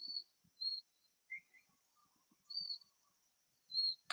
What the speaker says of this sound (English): we can enjoy the sound of the birds, the crickets, the rustling of leaves.